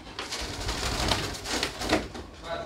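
Soft, low pigeon cooing repeats in a few rounded pulses, close by, with light rustling in the background.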